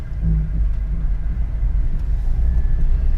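A Chevrolet Silverado extended cab 5-speed pickup starts off down the road, producing a continuous deep rumble of engine and tires that holds fairly even throughout.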